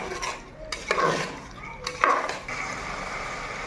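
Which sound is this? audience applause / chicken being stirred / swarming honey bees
chicken being stirred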